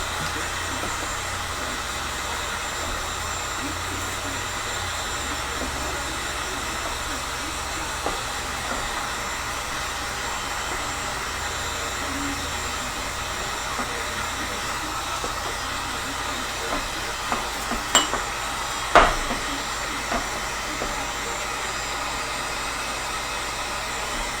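Steady airy blowing hiss of a heat gun or hair-dryer-style heater warming a PVC war bow near the 6-inch mark, continuous and fairly close, with a few faint clicks and knocks near the end.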